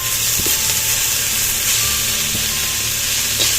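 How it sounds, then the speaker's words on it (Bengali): Drumstick leaves frying in a pan with garlic, green chili and onion, a steady close sizzle and hiss with a few faint clinks of stirring. "সজনে শাকটা রসুন, তারপরে কাঁচা লঙ্কা আর একটু পেঁয়াজ দিয়ে ভেজে ভাজা করে নিচ্ছি"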